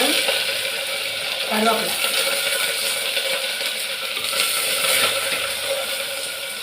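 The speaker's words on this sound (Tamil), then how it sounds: "கடுகு பொடியுது" Mustard seeds splutter and crackle in hot oil in a home kitchen, a close, busy patter of sharp pops and sizzle running steadily beneath someone talking.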